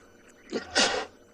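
A person on a live afternoon safari drive in South Africa sneezes once, a short, fairly quiet burst with a small lead-in breath.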